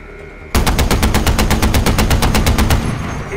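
Rapid automatic gunfire from a weapon in the video game Far Cry 4, a loud continuous burst of evenly spaced shots lasting over two seconds before stopping abruptly.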